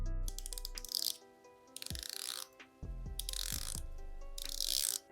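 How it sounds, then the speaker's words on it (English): Omega Seamaster 300M unidirectional 120-click rotating bezel being turned, quiet close-up bursts of rapid metallic ratcheting clicks in several runs separated by short pauses. "let's do some ASMR and listen to this clicky bezel"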